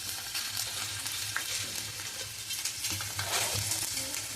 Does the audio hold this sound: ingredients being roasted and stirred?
yes